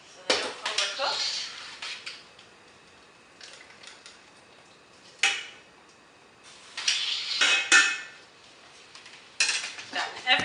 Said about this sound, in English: I'm going to scoop them out with a big sieve so they don't overcook.